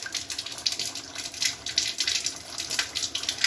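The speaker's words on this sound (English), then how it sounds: "So this is how we get continuous supply of water for cleaning our utensils." Water runs steadily from a tap fed by reused RO purifier waste water for washing utensils, a continuous close hiss and splash with no talking.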